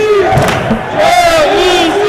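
Crowd at a junior varsity basketball game roaring and cheering loudly, with whoops and shouting voices rising in a sustained burst that swells near the end.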